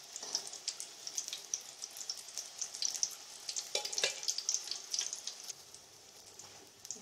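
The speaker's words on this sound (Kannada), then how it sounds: "ಇದನ್ನು ನಾವೇ ನಿಧಾನವಾಗಿ ಸ್ವಲ್ಪ ಹಿಂಗೆ ಟರ್ನ್ ಮಾಡ್ತಾನೆ ಸೌಟ್ನಿಂದ ಸ್ವಲ್ಪ ಎಣ್ಣೆ ಬಿಡ್ತಾ ಬೇಯಿಸ್ಕೊಳ್ಬೇಕು" Potli samosas frying in hot oil, turned slowly with a ladle: a steady bright sizzle runs throughout, with soft irregular crackles and light scraping taps, close and alone with no voices.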